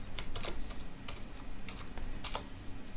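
Someone types a name on a computer keyboard, giving a quick run of soft, close key clicks in small bursts with short pauses, no voices.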